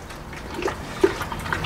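Water sloshes and swirls around inside a honey container being rinsed out for mead, soft close splashing with a few sharper gurgles, quiet and brief with no talking.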